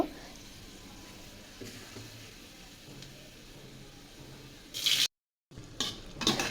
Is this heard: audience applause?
no